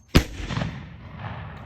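A Civil War cannon fires once: a sharp, loud boom near the start, followed by a rumbling decay and a low echoing tail that fades over about a second and a half.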